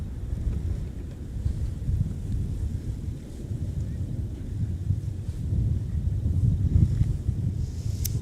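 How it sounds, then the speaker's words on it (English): Gusty wind buffets the microphone outdoors at Minneapolis–St. Paul airport, a steady low rumble with surging swells, loud and continuous without speech. "despite the wind and all the elements"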